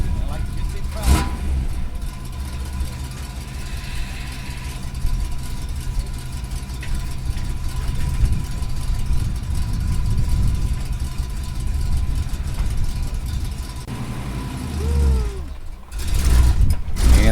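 A 1955 Chevrolet Bel Air engine idles and revs with a low, rumbling growl, close by, while people talk and call out over it.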